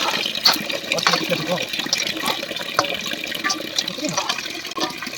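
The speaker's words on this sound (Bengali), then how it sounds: "এবার ডুমুরগুলোকে আমি ধুয়ে নেব" Cut figs being washed by hand in water, with splashing, sloshing and running-water sounds close by, irregular bursts of liquid movement throughout.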